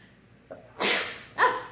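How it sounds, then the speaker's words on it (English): A person lets out a sneeze in two parts, a sharp intake followed by a breathy burst and a second smaller one, close and clear in a quiet room. "I'm about to sneeze."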